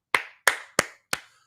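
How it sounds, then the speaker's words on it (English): Four sharp, close hand claps ring out at a steady, deliberate pace, each with a short, crisp decay, alone and with no voices. "I think this, deserves a hand clap"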